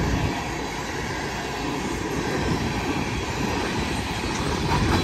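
A BNSF freight train, northbound with locomotive #8476 leading and two distributed power units, rolls past as a steady loud rumble and roar of wheels and engines that stays continuous throughout, with no talk.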